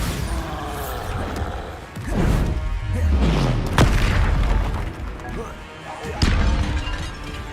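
A Bombarda spell blast from Hogwarts Legacy erupts in a loud booming crash with a falling rumble, followed by further sharp impacts and a thudding hit near the end, all close and forceful.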